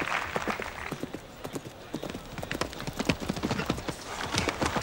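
Horse hooves clip-clopping on a slippery show jumping course, a rapid uneven series of strikes close by, with a brief neigh at the start.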